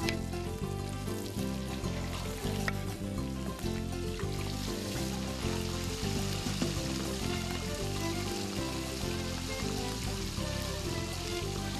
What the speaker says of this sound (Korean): 갓 잡은 생선이라 그냥 튀기기만 해도 맛있답니다.